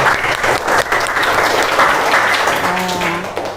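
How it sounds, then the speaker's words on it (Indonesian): A classroom full of students applauds for group 1, giving a dense, steady burst of clapping close by that lasts a few seconds, with a faint voice near the end. "tepuk tangan untuk kelompok 1"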